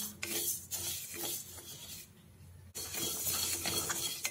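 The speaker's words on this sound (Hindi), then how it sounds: "बिल्कुल सीम आंच पर धीरे धीरे हम इसे अच्छी तरह से भून लेंगे।" Coriander powder dry-roasting in a pan over low heat, soft scraping and rubbing as it is stirred, quiet and close, with a short pause before the stirring resumes.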